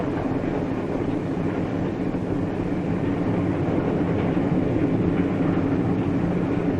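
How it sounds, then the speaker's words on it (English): A passenger train speeds along the rails toward dusk, giving a loud, continuous low rumble with faint rhythmic wheel clatter and no voices. "While the train speeds into the dusk,"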